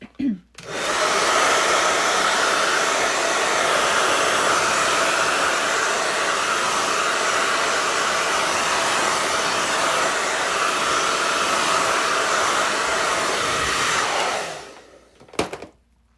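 A hair dryer blows hard and steady on wet acrylic paint during a floral abstract painting session, a loud continuous whoosh of about fourteen seconds before it clicks off, followed by a few faint handling noises.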